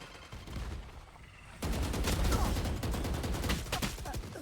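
Gunfire in a video game: loud, dense bursts of rapid shots break out after a quieter stretch and keep rattling steadily to the end, with a faint voice underneath.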